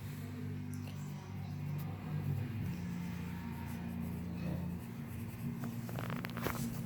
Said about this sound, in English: And you can write in there, skipped per Miss L.